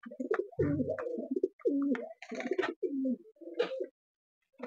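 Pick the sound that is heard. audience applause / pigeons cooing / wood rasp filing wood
pigeons cooing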